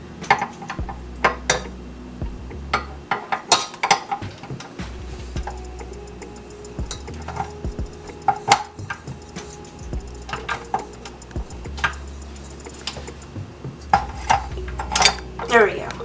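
A dough mixer attachment is fitted to a stand mixer bowl while making peanut butter dog biscuits, with scattered metallic clicks, clanks and taps, close, with a voice speaking between them.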